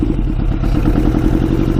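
A custom 100hp Yamaha Banshee two-stroke with a stage 4 jet kit idles steadily up close, a loud, even, rapid thumping putter with a slight clattering edge and no talk over it.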